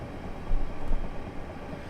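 A train accelerating out of Herne Hill on the Chatham Main Line in Train Simulator 2022 gives a steady low rumble with a slight swell of rail and traction noise midway, continuous and moderately close.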